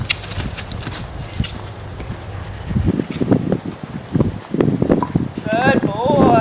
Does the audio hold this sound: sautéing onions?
no